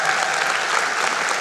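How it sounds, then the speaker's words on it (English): A church congregation claps in appreciation of parking lot and cart drivers, a steady, full burst of applause filling the room without a break. "Give them a hand clap."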